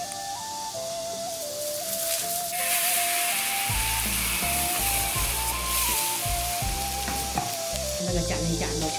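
Locust flower pancakes frying in a pan give a steady close sizzle with stirring and scraping clatter, while a faint whine runs through it.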